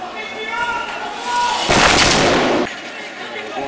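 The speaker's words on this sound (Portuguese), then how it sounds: "estão atirando na casa das pessoas" Gunfire in a Rio de Janeiro favela at night, with shots aimed at houses, builds into a loud burst of shooting in the middle while someone talks excitedly before and around it.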